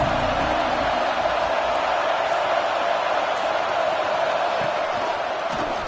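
Stadium crowd in the College Football 26 video game, a dense, steady roar of many voices that holds at an even level throughout, close and loud.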